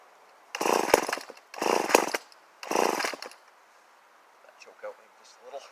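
An old XL12 chainsaw engine fires up in three short revving bursts, each lasting about a second, loud and close. Fainter sputters trail off after them.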